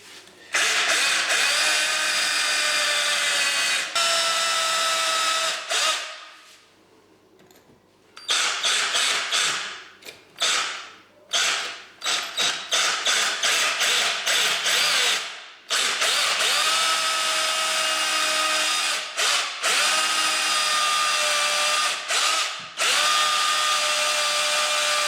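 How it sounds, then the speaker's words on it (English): A power drill drilling holes for an electrical back box whines at high speed in long bursts, stopping and restarting repeatedly with short triggered pulses, close and loud. "So I can now drill an hole there."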